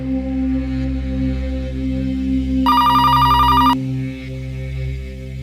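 A phone rings in a tense domestic drama scene: a bright, electronic ringtone burst lasting about a second, layered over a steady low background music bed, with no talking during the ring.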